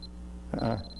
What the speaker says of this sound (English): Something beeping.